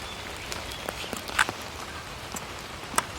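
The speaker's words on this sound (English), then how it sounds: "Just starting to rain again" Rain starting to fall during a hike near a cave on Mt Ngungun in Queensland's Glasshouse Mountains: scattered close drops and soft taps over a quiet hiss, with a few sharper hits standing out, no voices.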